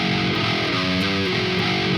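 Distorted 8-string electric guitar playing a riff, a dense sustained heavy chug for about two seconds, loud and alone, cut off on beat four.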